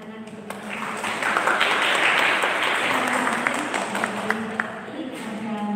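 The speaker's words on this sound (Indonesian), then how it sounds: "Sehingga tepuk tangan untuk" Sustained crowd applause at an opening ceremony assembly, clapping steadily from many hands for university students, loud and dense throughout with a few sharper individual claps standing out.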